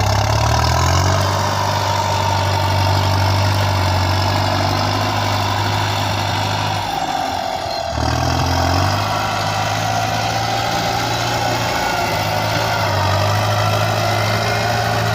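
A Kubota M9000 diesel tractor engine, about 20 years old, idles loudly and close, with a steady low throb and a brief dip in the middle before settling back to an even rumble.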